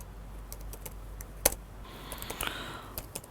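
A computer keyboard is typed on to enter Java code in the Eclipse editor, giving a quiet run of soft, irregular key clicks with one sharper tap near the middle.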